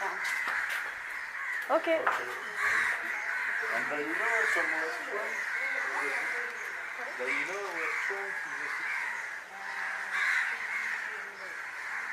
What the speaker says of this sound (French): Il y a des corbeaux par centaines.